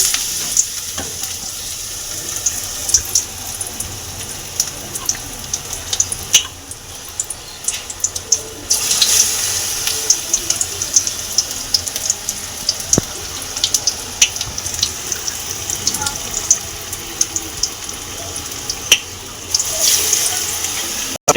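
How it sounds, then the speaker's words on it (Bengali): Besan-battered eggplant fritters stuffed with potato frying in hot oil, a steady bright crackle and hiss with scattered pops and occasional clinks, continuing alone throughout. "এগুলো আমি ভেজে নেব"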